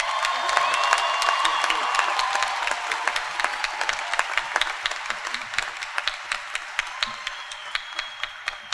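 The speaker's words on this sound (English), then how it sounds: "Round of applause for the master's graduates from the College of Business." A large commencement crowd applauds master's graduates from a College of Business, a broad wash of clapping that thins into sparser, distinct individual claps toward the end, with some cheering and voices mixed in.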